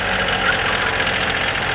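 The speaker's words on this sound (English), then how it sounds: "Yep, that's right, my tractor." A tractor engine runs steadily at close range, giving a dense, loud, continuous rumble with a knocking idle throb and no talk over it.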